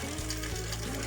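A dry, unlubricated motorcycle chain turns with a quiet, close mechanical clicking and rattle over a low steady hum, lasting only a moment.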